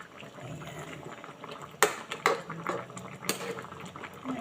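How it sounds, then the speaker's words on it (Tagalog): Coconut milk simmers with tilapia in a pot, a soft continuous bubbling broken by a few sharp metallic clinks of utensil against pot, close and moderately quiet. "Hintayin lang natin siya kumulo. Yung maluto yung gata."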